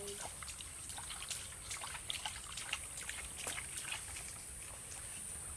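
Water trickles from a spring well in a continuous, soft, close dribble with small splashes and drips scattered through, heard alone.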